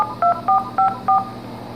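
Four touch-tone telephone dialing beeps sound evenly spaced and clear over a faint background hum while calling a StraightTalk home phone service line.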